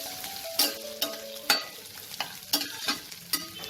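Chopped onion fries in oil with a constant sizzling hiss, punctuated by repeated sharp scrapes and taps of a utensil stirring the pan, alone without talk.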